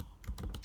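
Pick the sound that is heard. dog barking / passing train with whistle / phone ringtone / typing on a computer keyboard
typing on a computer keyboard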